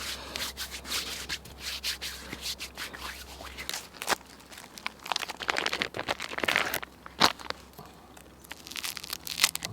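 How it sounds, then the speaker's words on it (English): Hands rub together with hand cleanser outdoors in the woods, a soft, close, uneven friction swish lasting several seconds, with a few sharper scuffs and no talk. "as there's some hand cleanser and I'm out in the woods, I might as well disinfect my hands"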